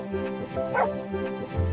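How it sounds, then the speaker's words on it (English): A pet dog at home lets out several short yips and barks close by, with whimpery tones between them. "You were just barking?"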